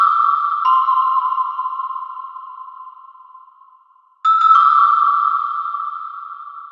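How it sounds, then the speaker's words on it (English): A bell one-shot in an Afrobeats/Afro-dancehall beat rings a simple pattern of sustained tones, each decaying slowly before the next strike, clean and alone. "Added this bell one shot. It plays this simple pattern."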